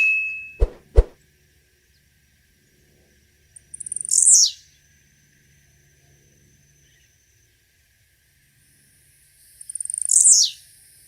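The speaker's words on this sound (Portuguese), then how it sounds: "é fundamental apreciar o canto do tizil na natureza" A few short, high buzzy blue-black grassquit songs separated by long quiet gaps, with two sharp clicks at the start.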